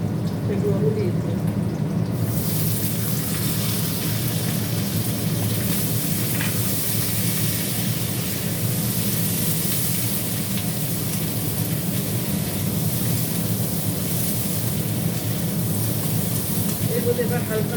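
Onion and capsicum sizzle steadily in a hot pan, a loud, continuous crackling hiss that jumps up sharply after a couple of seconds and holds with no voices over it.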